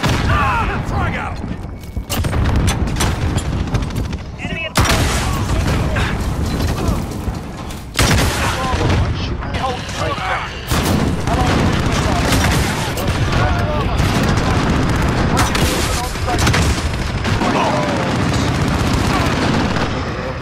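A frag grenade blast and rapid gunfire in a first-person shooter multiplayer match on the Shipment map, dense loud volleys of shots with booming bursts throughout, under game voice callouts.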